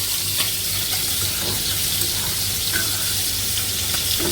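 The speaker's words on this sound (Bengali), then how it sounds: "এই যে মাছ ভাজা হচ্ছে ইলিশ মাছ দিয়ে কলা দিয়ে রান্না করবো" Hilsa fish frying in a pan of hot oil gives a loud, continuous close-up sizzle, a dense and unbroken hiss that lasts throughout with no talk.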